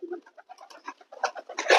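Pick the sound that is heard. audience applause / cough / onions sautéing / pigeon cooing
pigeon cooing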